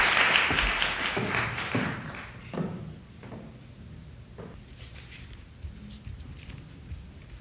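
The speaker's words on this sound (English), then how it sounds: "Give them a round of applause." An audience at a Frederick Douglass convocation applauds for the Byers Dance Academy, a burst of loud clapping that fades after a few seconds into scattered claps and room noise.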